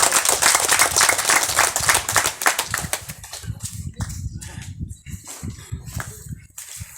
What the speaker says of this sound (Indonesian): Mari kita berikan aplaus yang meriah untuk Bapak.